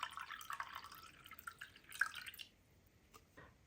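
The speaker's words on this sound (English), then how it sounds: "I'm going to add a little more of the cabbage water" Purple cabbage soaking water dribbles and pours into a glass container, a faint close trickle with small drips for a couple of seconds, then tapering to a few isolated drops, without talk.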